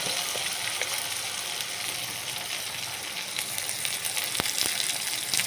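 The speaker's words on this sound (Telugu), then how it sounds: "అల్లం వెల్లుల్లి పేస్ట్ వేగాక" Ginger garlic paste frying in oil for a quick potato fry: a continuous soft sizzle and hiss with occasional sharp clicks and pops near the end.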